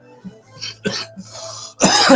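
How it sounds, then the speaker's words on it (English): Several harsh coughs and throat clearing, close up, ending in a loud burst of coughing. "Can't ever get through this without coughing, eh?"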